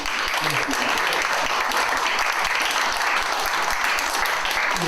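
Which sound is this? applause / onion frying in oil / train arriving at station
applause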